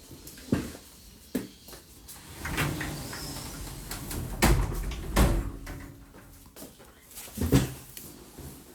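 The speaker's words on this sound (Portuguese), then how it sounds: "Deixa eu fechar a porta aqui, tanto barulho." Several knocks and sliding thumps of a door being moved and shut, irregular and fairly close, amid low background noise.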